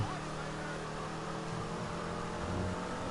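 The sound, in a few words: Enus Stafford car engine noise in video game Grand Theft Auto 5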